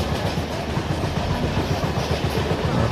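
A train in the Trainz Simulator game creeps along at about 5 km/h, its wheels clicking steadily over the rail joints under a continuous low rumble, close and fairly loud with no talk.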